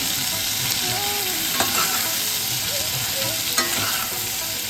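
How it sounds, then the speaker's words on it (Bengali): Steady, close sizzle of ridge gourd and potato frying in a pan, with occasional scrapes and clinks of a spatula stirring through the continuous crackle. "এদিকে ঝিঙে আর আলুটা খুব ভালো করে ভাজা হয়ে গেছে"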